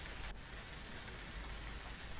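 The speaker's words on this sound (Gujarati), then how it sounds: "ગાજવીજ સાથે વરસાદ પડતા જ વાહન વ્યવહાર અને જનજીવન ઉપર પણ તેની અસર જોવા મળી રહી છે." Steady, dense rainfall pours down over a rural coastal area of Porbandar during the monsoon, a continuous close hiss with no breaks.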